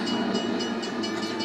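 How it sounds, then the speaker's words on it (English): A train rumbles steadily past in a Pixar Cars Toons animated short, Unidentified Flying Mater, a continuous close, broad roar with no pauses and no voices. "Oh, there's a train."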